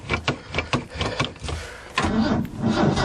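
A 1977 Ford E100 van with its original carburetor cranks on a cold winter start, a rhythmic chugging starter whir that catches and rises into a steady running engine, close and loud.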